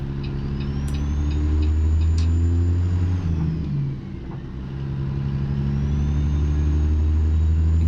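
Truck engine fitted with a cold air intake and replaced muffler in American Truck Simulator, a steady deep rumble that swells and revs, briefly dips, then climbs again, heard alone and close.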